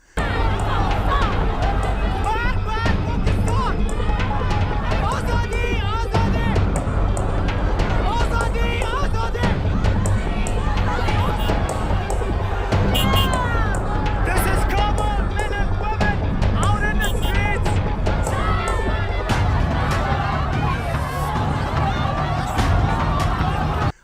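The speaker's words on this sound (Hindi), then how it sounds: "पाकिस्तान के एम्बेसी के बाहर नारे लग रहे हैं" A large crowd shouts slogans outside the Pakistan embassy in Afghanistan, a loud, continuous mass of voices with chanting and babble that keeps going steadily the whole time.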